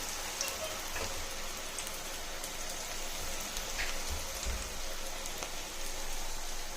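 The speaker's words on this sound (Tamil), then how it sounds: "இப்போ எண்ணெயில் போடலாம். இப்போ எண்ணெயில் போட்டால் பக்குவமாக போடுங்க, கையில் அடிச்சிடும்." Battered cauliflower 65 pieces fry in hot oil, giving a steady, fairly faint crackling hiss that runs evenly throughout with no talk over it.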